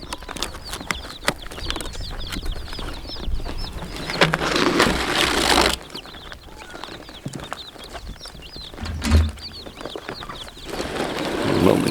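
Newly arrived chicks and chickens on a farm cluck and peep continuously, with a few louder squawks and rustling or thumping handling noises breaking through the busy flock chatter.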